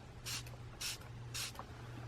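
A makeup setting spray is misted onto a face in three short, soft hissing bursts, evenly spaced and close, over a faint low hum.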